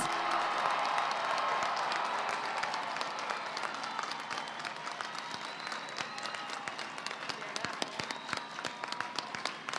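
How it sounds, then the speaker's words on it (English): A large crowd at a high school graduation ceremony applauds the class of 2021, sustained dense clapping from many hands across a big space, steady and loud before gradually thinning toward the end. "A round of applause for our class of 2021 graduates."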